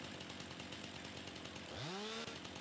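A chainsaw in the Farming Simulator 19 game revs up sharply to cut into a tree stump, its rising whine standing out over a constant low background hum for about a second.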